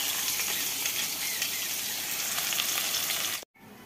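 Onions sizzle and fry steadily in a hot pan as they are browned, a continuous close crackling hiss that cuts off abruptly near the end.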